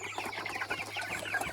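Chickens cluck steadily inside a movable chicken tractor pen holding about 125 birds out on grassland, a dense flock chatter of overlapping clucks at close range with no talk over it.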